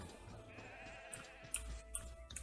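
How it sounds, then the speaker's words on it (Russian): Sheep in the video game Overlord: Fellowship of Evil give a soft, faint bleat over quiet in-game ambience with light ticking clicks. "А впереди нас ждут овцы."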